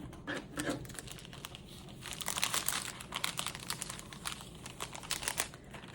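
Close, continuous crinkling and rustling of white crinkle paper shred being handled, with soft crunches rising and falling, no voices.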